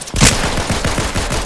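A rapid string of loud, evenly spaced gunshots fires from behind the player in a Fortnite match, close and punchy with no voices over it.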